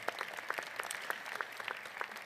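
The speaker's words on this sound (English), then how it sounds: "let's give him a little round of applause." An audience at a university winter commencement ceremony applauds an honorary doctorate recipient, giving steady, dense clapping from a large crowd that sounds somewhat distant and soft, with no voices over it.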